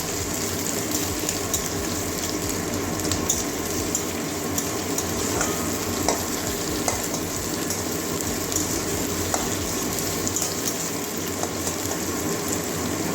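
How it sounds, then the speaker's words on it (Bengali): Chopped onion and slit green chilies fry in oil for a Bengali curry, giving a constant dense sizzle with faint bubbling and occasional scrapes, close and steady with no voices. "এবারে পেঁয়াজ কুচি দিয়ে দেবো এই পেঁয়াজ কাঁচা লঙ্কা কুচি দিয়ে দিচ্ছি মাঝখানে চিরিয়ে দিয়েছি কাঁচা লঙ্কাটা এগুলো ভালো করে ভেজে নেবো"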